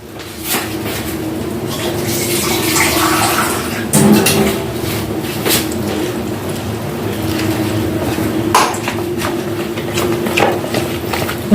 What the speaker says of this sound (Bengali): এবার এটাকে আমি জল দিয়ে গুলে নেব